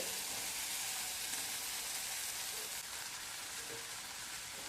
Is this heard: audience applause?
no